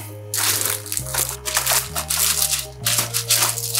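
Plastic packaging of a transparent keyboard is crinkled and torn open in several rustling, crunchy bursts, close up over faint background music.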